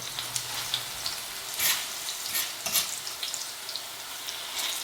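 Eggplant slices sizzle and crackle in hot oil in a pan, a steady bright hiss with small popping bursts, close by and with no talking.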